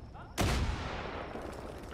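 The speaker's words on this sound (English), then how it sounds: "Have a grenade!" A grenade blast in the shooter game Far Cry 5: a sudden loud boom after a quiet moment, then a rumbling tail slowly fading away.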